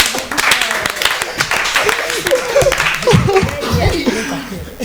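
Scattered audience clapping mixed with chuckling and laughter at a French-speaking student debate event, the claps uneven and mid-distance, with voices talking and laughing over them.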